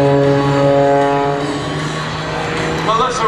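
Aerobatic propeller airplane rolling on a descending line at an air show, a loud droning engine whose pitch shifts as it passes, with an announcer's voice over it.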